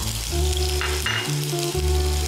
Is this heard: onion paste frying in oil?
yes